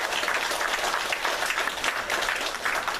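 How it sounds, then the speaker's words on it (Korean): Church congregation applauding two deaconesses during a Sunday worship service at Eungwang Church, a steady wash of many hands clapping at moderate distance for about three seconds. "격려의 박수 부탁드립니다."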